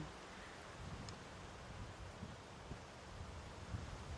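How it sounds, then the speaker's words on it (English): Steady wind blowing across the microphone on a morning safari drive at Ngala Private Game Reserve, a broad rushing noise with faint rustling, continuous and without voices. "It's very windy, which means it's really hard to pick out sounds."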